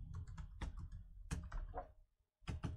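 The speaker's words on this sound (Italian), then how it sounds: "Devo digitare la password" A password is typed on a computer keyboard in quick clusters of close, crisp key clicks with a brief pause before a final burst.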